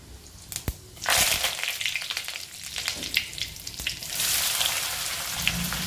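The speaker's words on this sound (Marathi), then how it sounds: "आता तेल गरम करून त्यात मोहरी, कढीपत्ता, जिरेची फोडणी करायची" Mustard seeds, curry leaves and cumin sizzle and crackle loudly in hot oil as a tempering, bursts of spattering rising and falling with no talk.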